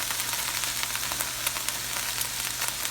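A steak sizzles steadily as it fries in free-range butter in a pan, a close, bright crackle with a low hum beneath and scattered pops.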